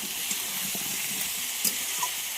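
Steady, loud sizzling of vegetables and fish frying over high heat in a hot pan, a constant hiss with a few faint scrapes and clinks.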